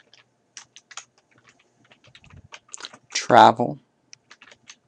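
Keys clatter in short bursts on a computer keyboard as a word is entered into a table cell, light quick clicks spread across the moment while someone speaks a single word over them.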